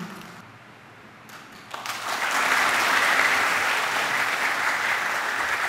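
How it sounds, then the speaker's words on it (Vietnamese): Sustained applause from a Catholic parish congregation welcoming a new parish priest, a dense steady roar of many hands that swells in after a quiet start and stays loud to the end. "Xin cộng đoàn đồng hòa tràng pháo tay để chúc mừng cha"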